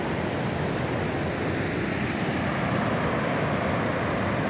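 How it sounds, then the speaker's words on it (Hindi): Water rushing through opened dam gates on the Ganga at Haridwar, a continuous loud broadband roar with a steady churning texture, mixed with wind noise on the microphone, no voices. "ये फाटक खोले हुए हैं इनके बांध के पानी के।"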